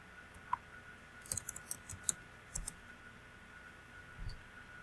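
Faint, sparse clicks of keys on a computer keyboard tap in a quiet room over a low steady hum.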